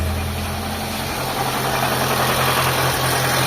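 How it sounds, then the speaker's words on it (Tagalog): A Mitsubishi Lancer GLi engine idles with a faulty, noisy bearing, giving a loud, steady mechanical drone with a low hum and a rough rattling texture throughout, close up with no talking. "So padiri ko sa inyo yung engine."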